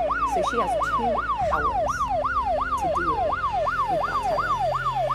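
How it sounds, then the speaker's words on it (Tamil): A police jeep siren wails in a fast, regular up-and-down pattern, loud and continuous throughout, with a vehicle engine rumbling faintly underneath. "இந்த ஜீப்போடைய சத்தம் அந்த காருக்குள்ள இருந்த ஜேம்க்கு நல்லாவே கேட்டு இருந்திருக்கு."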